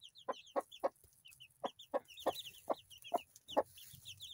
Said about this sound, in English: Hello there, baby chickens.